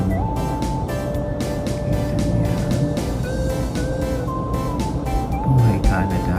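A car in use on a cold winter morning at minus 10°C in Canada, an engine running steadily with rising tonal whine shifts while a person talks over it close to the microphone.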